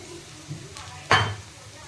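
Mustard seeds and dried red chillies hitting hot oil in a pan while pumpkin fry is cooked, with a soft stir early on and then one sharp, close burst of sizzling that quickly settles.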